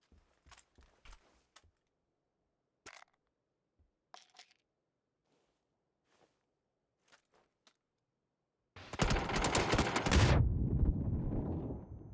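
Gunfire in the battle royale game PUBG: faint, scattered single shots and soft clicks, then a sudden loud, sustained burst of fire near the end.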